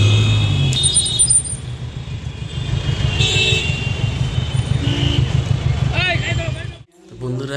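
Congested road traffic of cars and many bikes in rural Bengal, India, gives a dense, close engine rumble with a few short horn toots, and people speak over it before a brief cut near the end.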